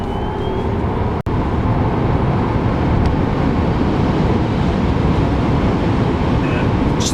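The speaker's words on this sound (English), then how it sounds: "I'm gonna get onto the highway right here, and I'm just gonna floor it" A Tesla Model S floored onto a highway: a loud, steady broadband roar of road and wind noise that holds constant throughout, with one brief dropout near the start.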